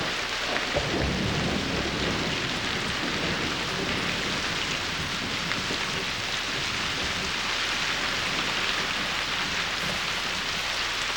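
Thunderstorm with steady heavy rain pouring in open country over the whole stretch, a dense constant wash of noise with a low rumble of thunder early on, no voices.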